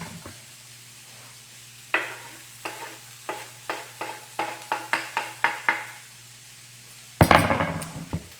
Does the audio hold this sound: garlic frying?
yes